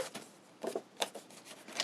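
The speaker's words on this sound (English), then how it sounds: "using a pair of scissors" Scissors snip along the edges of paper for a stamped card, giving a few quiet, quick crisp cuts in short bursts close by.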